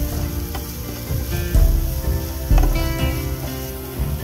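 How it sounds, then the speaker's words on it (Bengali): Ground spices fry for egg tadka in a pan, a steady close sizzle with two heavier thumps of stirring, no talk. "এবারে সব গুঁড়ো মশলাগুলো একটু সময় ভেজে নেব"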